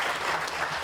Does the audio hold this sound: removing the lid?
no